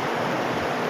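A river runs steadily outdoors in the Philippines, a dense, unbroken wash of water noise. It is fairly loud and even throughout, with no voices.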